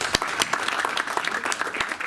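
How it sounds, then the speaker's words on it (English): Audience applause fills a basketball award dinner, a steady wash of many hands clapping with sharper individual claps popping through, fairly close and continuous throughout. "So I wanted to give a round of applause."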